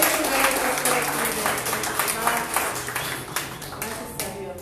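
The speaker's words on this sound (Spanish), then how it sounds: "Le damos un aplauso." A church congregation applauds at a Sunday service, a dense, steady patter of many hands clapping that carries through the whole stretch, with voices mixed in underneath.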